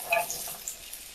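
Chopped onion frying in a tablespoon of olive oil over medium heat, a soft, crackling sizzle with a few scattered pops and stirring scrapes, quiet and close with no voices.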